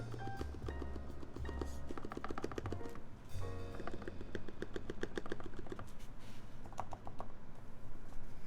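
Fast clattering keystrokes on a mechanical keyboard during a TMO50v2 keyboard build, a steady run of sharp clicks continuing through the whole stretch at moderate volume.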